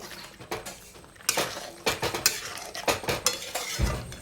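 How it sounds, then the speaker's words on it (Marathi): A utensil scrapes and clinks repeatedly against a pan while chicken curry with tomatoes and chillies is stirred and sautéed, with irregular close metallic knocks and light sizzling underneath. "परतून घे"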